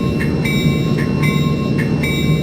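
A simulated Amtrak F40PH locomotive in Train Simulator, pulling into a platform at the Chicago to Naperville line, with a loud, steady low rumble and evenly spaced clicks of wheels passing rail joints.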